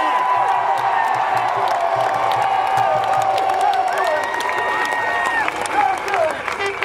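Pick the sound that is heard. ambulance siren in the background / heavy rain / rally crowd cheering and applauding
rally crowd cheering and applauding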